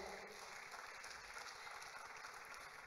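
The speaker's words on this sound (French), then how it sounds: "Can we clap for it?" A church congregation applauds together during a worship service, a steady, dense wash of clapping that fills the room from start to finish with no talk over it.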